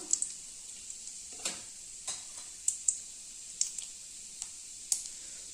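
Mustard seeds, urad dal and chana dal spluttering in hot oil, a faint steady sizzle broken by scattered sharp pops and crackles at irregular intervals.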